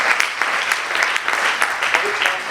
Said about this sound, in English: So can you clap for yourself, please?